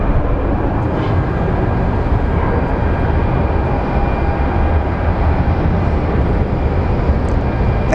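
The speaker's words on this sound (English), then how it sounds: "the Alaska Air is going to be turning right in front of us here" An Alaska Air jet airliner taxiing on the ground at Phoenix Sky Harbor Airport, giving a steady, loud, broadband engine rumble and hiss that holds constant throughout, with no talk.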